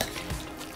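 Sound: stirring potato salad

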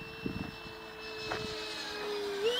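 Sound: jet airplane flying

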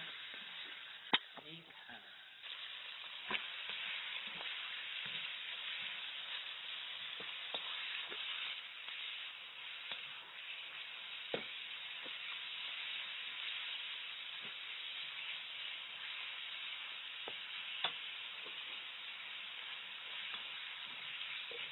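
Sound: pork stir-frying in a pan

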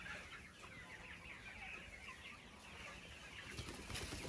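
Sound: chickens clucking on a chicken farm

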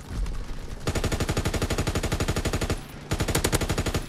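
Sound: MG-15 LMG gunfire in video game Call of Duty WWII

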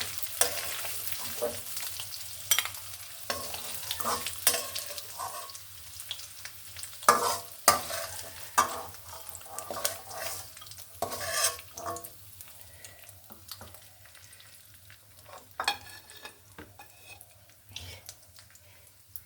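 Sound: fish frying in a pan with turmeric

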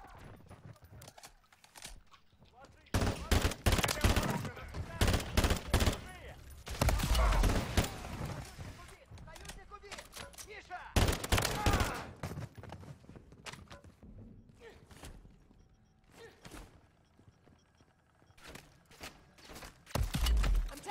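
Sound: gunfire in the video game MW3 Zombies

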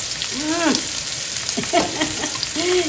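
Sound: food frying in pan

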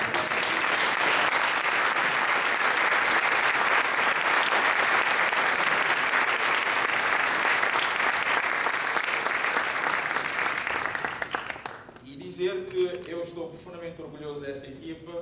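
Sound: strong round of applause from audience

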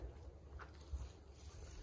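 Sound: rushing water

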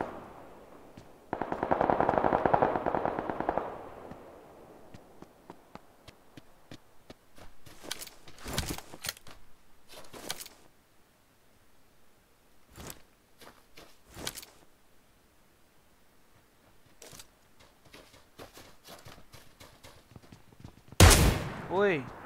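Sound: Kar98k rifle gunfire nearby in PUBG Lite video game

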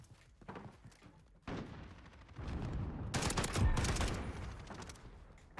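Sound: FAL burst rifle gunfire in a video game

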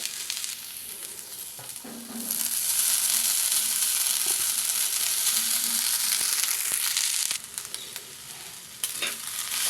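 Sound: ponnaganti leaves and rice frying in ghee

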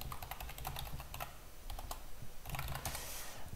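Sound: typing a name on a computer keyboard

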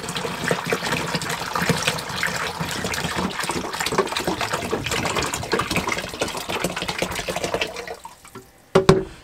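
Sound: hot water poured into RV holding tank

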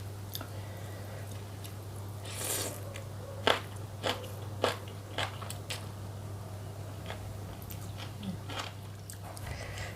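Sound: eating and chewing khanom jeen with chicken feet

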